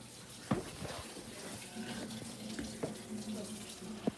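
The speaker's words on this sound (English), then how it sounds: "Yes, after I wash my hands." Water runs steadily from a tap while hands are washed at a sink, a continuous moderate splash with a few small knocks, heard at close range, with voices in the background.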